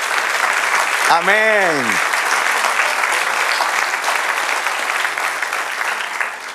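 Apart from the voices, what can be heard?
congregation applause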